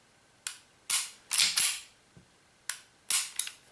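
WE M92 gas blowback airsoft pistol being dry-fired, its trigger pulled to the break and released to reset, giving sharp, close mechanical clicks in uneven pairs and singles with short gaps between them.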